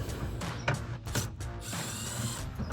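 Power driver backing out T15 Torx screws from the plastic fender liner of a 2007-2016 Chevrolet Silverado 1500, heard as a steady close mechanical whir with brief ratcheting bursts and no talking.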